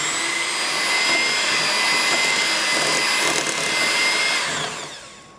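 An electric mixer whirs loudly and continuously while creaming cream cheese and butter together for a pound cake, a steady high motor whine that winds down at the very end.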